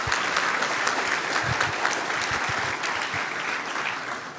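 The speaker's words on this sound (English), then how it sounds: "I would love another round of applause for all of our startups." An audience at a 2017 insurtech awards summit gives a sustained round of applause for the startups, a dense, even clapping that holds steady throughout without any speech.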